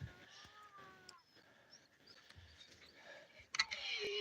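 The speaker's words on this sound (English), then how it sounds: "You can hear the kittens in the background." Kittens on a homestead ranch meow faintly in the background, several thin, rising cries scattered through the clip, with a louder, sharper burst near the end and light outdoor noise throughout.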